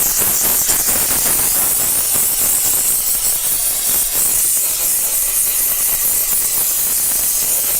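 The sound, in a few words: steamer cleaning inner fender wells of a car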